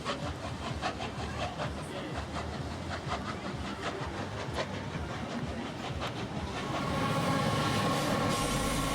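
A train runs past in steady, loud rumbling motion with rhythmic wheel clatter throughout, swelling slightly louder toward the end; steam locomotive 3642 is heading to Newcastle in New South Wales.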